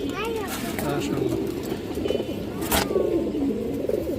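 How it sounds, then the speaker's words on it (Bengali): A silver male pigeon coos in repeated soft, throaty bursts close by, while someone talks over it throughout. "একটা পুরনো হাই কোয়ালিটির একটা সিলভার নর কবুতর"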